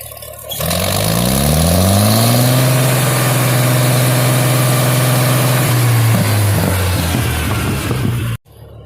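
A Farmall C263 tractor engine, fitted with new points and plugs, turns over, catches and rises quickly to a loud, steady close-up idle with a slight uneven roughness before cutting off abruptly near the end.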